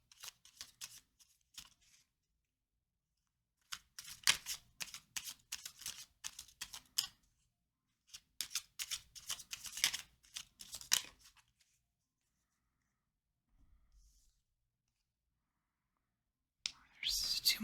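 Tarot cards are shuffled and drawn from a deck during a reading, giving bursts of close, crisp papery riffles and flicks separated by quiet pauses, with soft speech at times.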